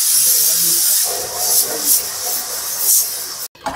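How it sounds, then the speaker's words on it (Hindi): A pressure cooker steams with pork trotters inside, a loud, steady, close hiss of escaping steam that swells and dips several times before cutting off abruptly near the end. "5 times सीटी बजना चाहिए कुकर का"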